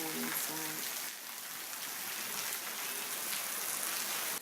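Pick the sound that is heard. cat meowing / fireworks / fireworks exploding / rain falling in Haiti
rain falling in Haiti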